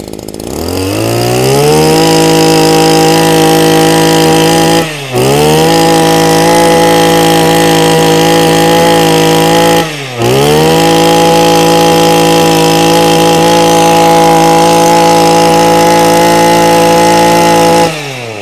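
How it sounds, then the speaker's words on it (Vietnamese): A used Japanese brush cutter's small two-stroke engine runs loud and close at a steady high pitch, dipping briefly twice before settling back to the same even drone. "thể nghe tiếng máy của em nó tanh tanh tanh tanh tanh cực kỳ sướng luôn đó"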